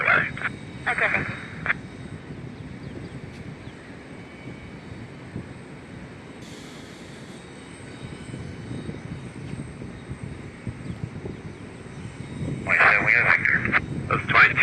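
An airplane at Fort Lauderdale International Airport during a thunderstorm rumbles steadily through the whole stretch, a broad continuous engine roar with brief louder bursts near the start and end.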